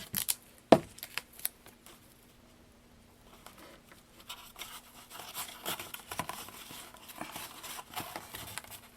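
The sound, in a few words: applying a piece of duct tape to a cardboard box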